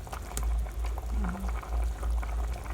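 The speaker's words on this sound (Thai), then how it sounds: "ต้มไปจนกว่าเม็ดมันแตก" Pigeon pea curry with pork bubbles in a pot, a steady close boil with irregular popping bubbles and a low rumbling roil throughout, no talking.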